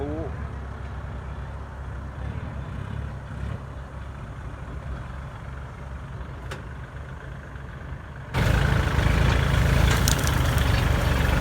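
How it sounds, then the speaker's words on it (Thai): Kubota tractors, including L40 and L50 models, drive past in a rice field in rural Isan. A steady diesel engine rumble runs throughout and grows sharply louder and closer near the end, with people talking over it. "รถไถหลายคันแท้"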